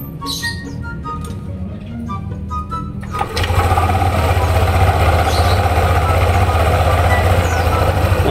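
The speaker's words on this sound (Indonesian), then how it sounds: "ketika nanti si motor dinyalakan" A few soft clicks and rattles, then a Yamaha NMAX scooter engine with an upgraded CVT catches and settles into a loud, steady idling hum for several seconds.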